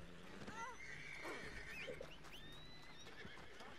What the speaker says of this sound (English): Let me get my horse off the tracks.